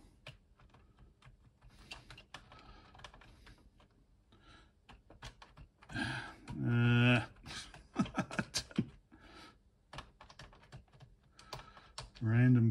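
Random keys are tapped on a computer keyboard in quick irregular bursts of close, crisp clicks, with someone talking between and over the typing.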